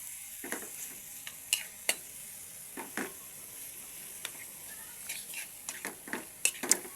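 Onion, garlic and tomato sautéing for pork kinamatisan, a soft steady sizzle broken by scattered spoon scrapes and stirs against the pan, fairly quiet and close.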